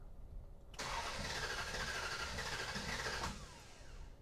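A Dodge Charger crew cab engine cranks and fires, then runs loud and steady for a few seconds near the listener before easing off.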